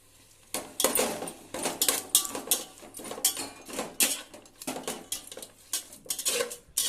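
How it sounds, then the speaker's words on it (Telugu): Chicken pieces going into a biryani pot, heard as a busy run of metallic clinks, clatters and scrapes of a ladle against the vessel, close and fairly loud throughout. "ఇప్పుడు ఇందులో చికెన్ వేసుకుందామండి."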